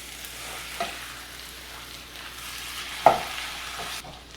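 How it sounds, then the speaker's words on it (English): Sweet potato leaves sizzle steadily in a skillet as they are stirred, a close, constant frying hiss with a few soft scrapes and knocks from the stirring. "I'm going to add all of this in my skillet and I'm going to mix it all together"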